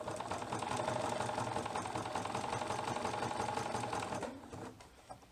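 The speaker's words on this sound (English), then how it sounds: "So now we're going to zigzag" A sewing machine runs a wide zigzag stitch around a pants pocket in a fast, steady mechanical chatter, close and continuous for about four seconds before stopping.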